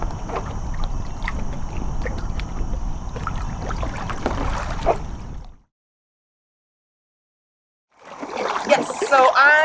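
Kayaks paddling on Lake Nockamixon give a close, splashy water wash with paddle strokes dipping and dribbling. A silent gap follows, then more splashing and a voice return.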